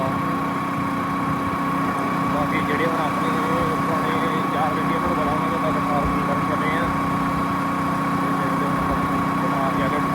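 A motorcycle engine runs steadily throughout while riding on a cold road, a continuous mid-pitched drone with wind and vibration, loud and close, with no break in the hum.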